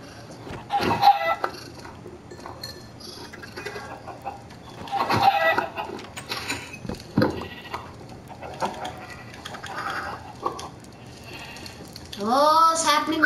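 Minecraft chickens cluck in short bursts with blocky game sounds and a player's voice, ending in a rising run of rapid clucks near the close.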